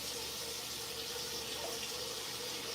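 Tap water running steadily into a sink to rinse rice, a continuous close hiss and splash with no breaks or voices.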